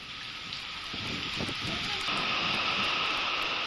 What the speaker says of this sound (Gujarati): આજે ભારે પવન સાથે વરસાદી માહોલ સર્જાયો છે।